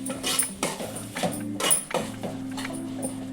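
Dondakaya (ivy gourd) fry being stirred with spices, coconut powder and coriander powder in a metal pan, with repeated clanking scrapes of a spoon against the pan in an uneven rhythm, close and clear, with no talking.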